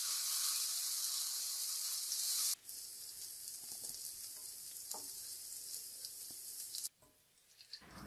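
Chopped shallots and chili frying in hot oil for a vegetarian sweet and sour dish, a bright steady sizzle that abruptly drops in intensity partway through with a few stirring taps, then quiets sharply near the end.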